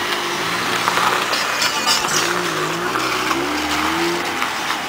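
Car driving along a badly potholed, neglected street, its engine and tires rumbling steadily up close with bumps and jolts throughout, no talking.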